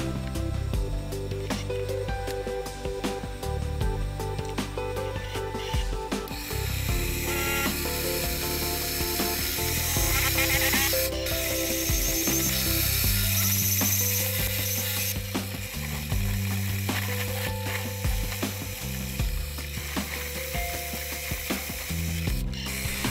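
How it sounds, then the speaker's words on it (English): A light-duty milling machine takes shallow cuts with an undersized slot drill, roughing out a slot in steel; a steady, close, continuous grinding cutting noise with mechanical rattle runs throughout, with no talk. "I used an undersized slot drill to roughly open up the slot first, and you can see I'm taking pretty shallow cuts"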